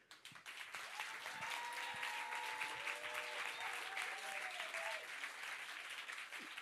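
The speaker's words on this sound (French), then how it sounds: "Et j'aimerais qu'on l'applaudisse." Crowd applause at an ecologist party rally in Paris for the 2024 European elections, swelling quickly into dense, continuous clapping from a large hall audience that holds steady to the end, quite faint overall.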